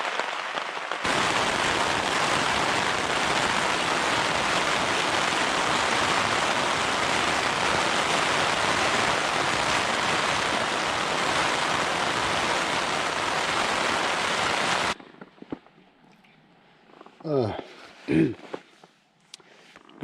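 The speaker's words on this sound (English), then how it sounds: "listening to the rain" Heavy rain pours steadily onto a Hilleberg Akto tent at Little Scoat Fell, a dense close hiss that stops abruptly, leaving quiet with a couple of brief rustling sounds.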